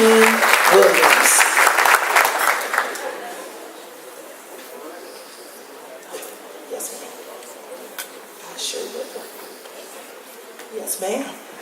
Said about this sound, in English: we ask that you kindly offer him a round of applause for his service as an honoree tonight